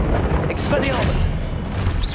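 An Expelliarmus spell cast in the PC game Hogwarts Legacy bursts out as a booming, crackling blast over a dense game soundscape, with a voice sounding alongside.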